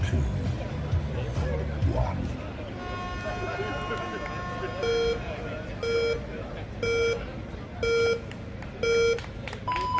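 A countdown of start beeps at an ultramarathon race start, five evenly spaced loud tones about a second apart over a murmuring crowd and chatter, ending in a higher final tone.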